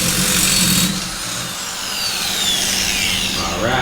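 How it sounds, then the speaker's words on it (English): A power tool zips a nut off a lowered Dodge Dakota pickup truck, a loud close whirring burst that drops off after about a second, then a steady lower hum with a brief rising whine at the end. "So I'm gonna zip this nut off"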